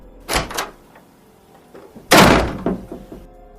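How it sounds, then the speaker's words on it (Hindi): A door is flung open and slammed shut hard, two sharp bangs early followed by a heavier booming slam with a rattling tail, loud and close in a quiet space. "जैसे कोई बहुत तेज़ी से दरवाज़ा खोल रहा है और बहुत तेज़ से दरवाज़ा बंद कर रहा है।"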